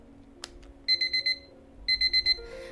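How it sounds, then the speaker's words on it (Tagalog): An alarm clock rings in the morning with two bursts of four sharp electronic beeps each, loud and close, after a quiet start with a single click. "Tunog ng alarm clock ang gigising kay Christina."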